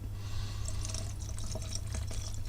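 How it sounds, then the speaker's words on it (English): Water pours steadily into a thick Huel shake, a close, continuous splash and trickle with faint bubbly spatters running through it. "Just pouring in a bit more."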